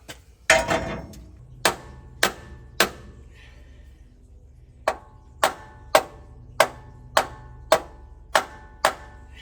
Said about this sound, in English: Let's give this a little tap.